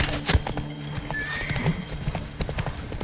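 Roach, Geralt's horse in The Witcher 3: Wild Hunt, gallops with steady clip-clop hoofbeats and snorts a whinny partway through. The game's music and ambience play underneath.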